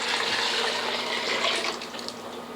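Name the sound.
pouring chicken stock into a pot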